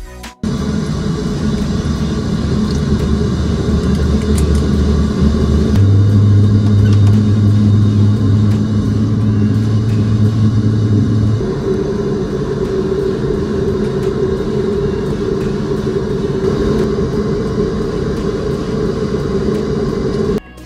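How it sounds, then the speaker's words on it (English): Loud, steady turboprop engines of a Saab 340 airliner drone close by at Aberdeen, and their pitch steps upward as they grow louder partway through while the props advance to fine pitch. "Just listen as the props advance to fine pitch, it becomes even louder."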